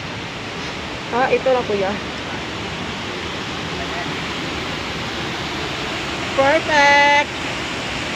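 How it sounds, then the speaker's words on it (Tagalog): Steady rushing water of the Hidden Waterfalls in Luisiana, Laguna, a broad continuous roar heard from a distance, with two brief bursts of voices talking over it. "Ayan na yung Hidden Waterfalls."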